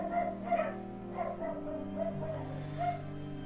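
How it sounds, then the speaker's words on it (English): Dogs in the video game Limbus Company, fighting with whimpering, yipping barks in short bursts over a sustained musical drone, fairly soft and mid-distance. "My dogs are going at it."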